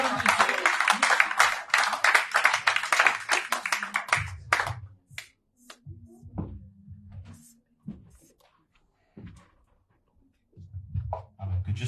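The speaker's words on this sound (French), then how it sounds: "Acclame le Seigneur pour la guérison de l'homme de Dieu." A church congregation applauding, dense rapid clapping for about four seconds that then breaks up into scattered claps and voices, with low speech and murmuring continuing afterward.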